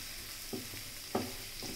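Vegetables for a veg lasagna sauté in a pan with a faint, steady sizzle and two soft stirring scrapes over a short stretch.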